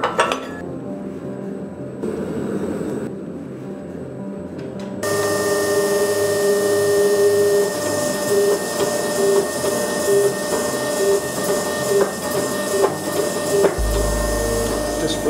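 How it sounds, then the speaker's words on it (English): A press fitted with flattening dies squeezing a billet of Damascus knife steel, a loud steady mechanical hum and grinding drone that grows louder partway through and carries on with faint clinks, close up. "we'll change the dies in the press and put some flattening dies in, and that'll just give it one last squeeze, perfectly flat"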